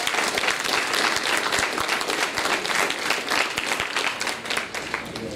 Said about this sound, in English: give a round of applause to your family and teachers